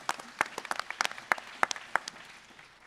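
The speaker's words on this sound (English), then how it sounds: "Round of applause for that question." Audience applause at a GunCon convention panel, a moderate crowd clapping in sharp, scattered bursts that thin out over a few seconds.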